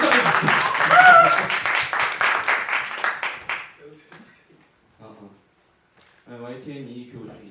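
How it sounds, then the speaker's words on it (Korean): Audience at a theatre press call for the play 'Art' bursts into steady clapping that fades out after a few seconds, followed by a voice speaking. "여러분 박수 한번"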